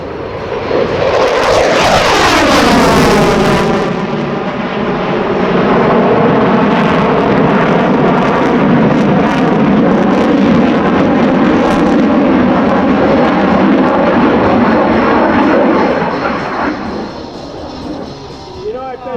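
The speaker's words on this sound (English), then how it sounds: "Here's the F-15 in a high-speed low pass." F-15C Eagle fighter jet making a high-speed low pass with afterburner at an air base open house air show, a loud roaring approach with a sweeping pitch drop as it passes, then a sustained thunderous rumble fading slightly at the end.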